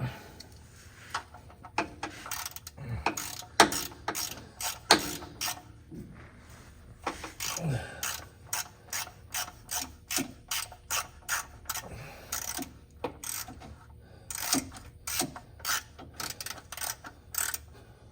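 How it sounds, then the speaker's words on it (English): Socket ratchet with a 5/8 socket working on a 2000-2003 Ford F150 during an oil and filter change, giving long runs of sharp, close pawl clicks in quick bursts with short pauses, with no talk over them. "And take your 5/8 socket."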